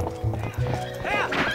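Horse hooves clip-clop in The Legend of Zelda: Twilight Princess as the player rides, a quick run of hoofbeats under game music, with a whinny near the end.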